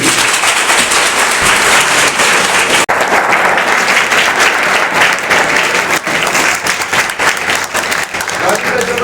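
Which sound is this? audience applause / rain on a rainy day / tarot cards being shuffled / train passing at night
audience applause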